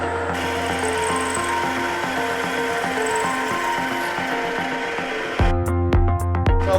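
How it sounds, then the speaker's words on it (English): Drill boring holes in gas pedal assemblies in a manual machine shop, a steady close mechanical whir with rubbing and grinding throughout, turning louder and more clattery near the end. "drilling some holes on our leftward gas pedal assemblies"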